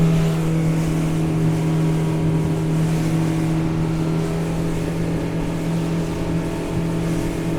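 Highfield 560 Sport boat's outboard engine running at speed on open water, a loud steady drone with a strong constant hum that never lets up.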